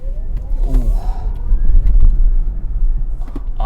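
Kia EV6 GT-Line AWD electric car accelerating hard in sport mode, a low rumbling road and motor drone with a faint rising whine, heard from inside the cabin.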